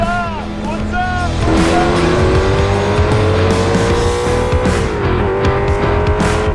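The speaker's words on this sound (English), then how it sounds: "just casually driving down the road" A car driving down the road with a loud, steady engine drone and shifting pitch as it accelerates, tires rolling close by and continuously throughout.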